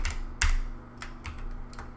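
Keys tapped on a computer keyboard, a few distinct clicks spread over two seconds, one louder press early on, over a steady low hum with no voices.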